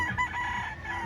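A rooster crows amid a busy background of other gamefowl at an indoor gamefowl expo, with steady crowd murmur throughout.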